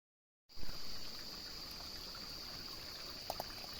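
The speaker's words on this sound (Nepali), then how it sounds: "धारा के सक्कलारी यसरी झर्छ पानी" Spring water falls from a mountain spout, a steady close splashing trickle that starts abruptly and runs on without talk.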